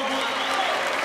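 Crowd applause after an amateur semi-welterweight boxing bout in Bariloche, a brief, dense and steady burst of clapping.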